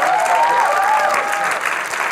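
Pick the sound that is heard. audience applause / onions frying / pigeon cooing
audience applause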